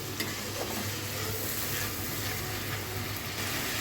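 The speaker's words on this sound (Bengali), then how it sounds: "চিড়ে নেওয়া মশলাটা প্রপারলি কষিয়ে নিব" Ground spice paste with green chilies sautéing in a pan for a Bengali mustard pabda fish curry, giving a steady, close sizzle with soft stirring scrapes throughout.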